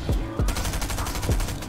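Shotgun fire in the video game Fortnite, several loud close blasts in quick succession with booming low tails, filling the short stretch with dense gunfire.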